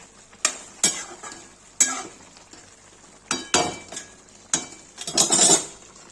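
Cauliflower in a white gravy roasts in a pan with a soft sizzle, punctuated by repeated loud spoon scrapes and clinks against the metal as it is stirred, the strokes coming in irregular bursts.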